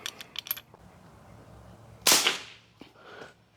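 A rimfire rifle fires a single 17 Winchester Super Magnum round: one loud, sharp crack stands out clearly against a quiet background, and a fainter click follows shortly after.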